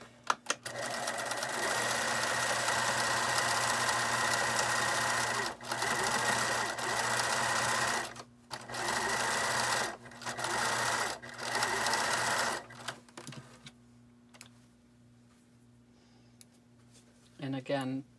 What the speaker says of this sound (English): I'll show you how I like to stitch from the top.